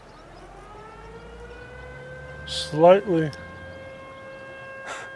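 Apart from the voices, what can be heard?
siren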